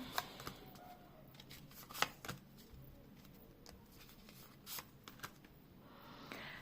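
Tarot cards are shuffled and handled quietly, with soft riffling patters and light taps scattered through the clip, close and faint.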